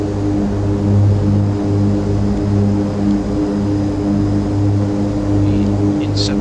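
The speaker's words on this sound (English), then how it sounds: "We're flying at 140 miles an hour with gear down, flaps 10" A steady, loud propeller airplane engine drones in flight in the FsPassengers flight simulator, on a shallow descent with gear down and flaps set, holding a constant hum with pulsing low tones throughout.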